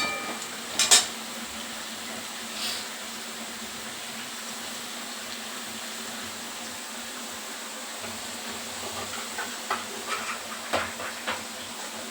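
Potatoes and capsicum frying in a pan for vegetable pulao, with a faint, steady sizzle and a few soft stirring scrapes and clinks scattered through it.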